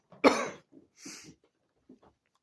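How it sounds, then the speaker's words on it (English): A person coughs hard once, loud and close, then a few softer coughs and throat sounds follow in short bursts with pauses between. "Sorry about the cough."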